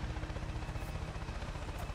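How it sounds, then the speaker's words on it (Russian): Helicopter flying in the Far Cry New Dawn video game, a steady pulsing rotor drone with low thumping beats, moderately loud and continuous throughout. "О, вертолетик тут."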